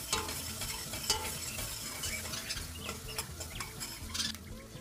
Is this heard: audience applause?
no